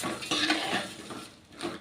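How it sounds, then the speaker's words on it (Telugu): Okra pieces and curry leaves are stirred in a pan, a spoon scraping and clinking against the metal in several quick strokes that fade, then return once near the end, without any talk. "ఈ ముక్కలు కలిసేలాగా ఇలా కలుపుకొని"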